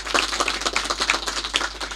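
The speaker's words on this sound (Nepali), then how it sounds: "यो ताली थियो उहाँहरूको सम्मानको लागि" Applause from an audience at a live Nepali dohori and panche baja music show. The clapping is dense and steady, close and lively, with no talk over it.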